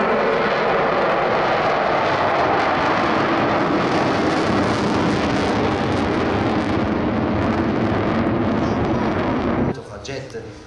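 Jet aircraft roaring past during an air show display, a loud continuous broadband engine roar that holds steady for several seconds and then drops away abruptly.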